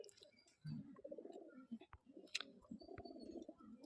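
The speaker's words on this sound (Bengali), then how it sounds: "একটা গিরিবাজ মাদি পায়রা আছে" Giribaz pigeons coo in soft, low, repeated bubbling calls, fairly close and quiet, with a few short clicks and rustles between them.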